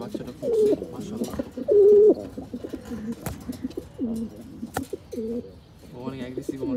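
Caged pigeons coo in repeated, rolling low calls, close and fairly loud, with a few sharp knocks between phrases on a windy day.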